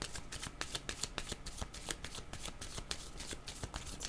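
Tarot cards are shuffled in quick, crisp riffling flicks at a steady rhythm, close and quiet, with no voices.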